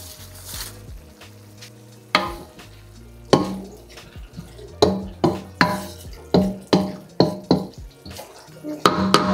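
Eggplant stirred into adobong tofu in a pan with the stove off, a spatula scraping and clacking in a steady series of sharp strokes over a soft sizzle.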